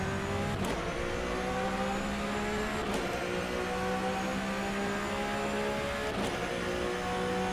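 A flat-six race car engine droning steadily through a lap of Le Mans in rFactor 2, with a constant loud tone and brief whooshing passes at intervals, with no talk.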